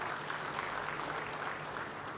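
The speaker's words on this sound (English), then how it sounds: "I'd like to give applause to the two gentlemen." An audience at a formal speech event in Kisumu, Kenya, applauds in a steady, dense wash of clapping that stays fairly faint and even throughout, with no voice over it.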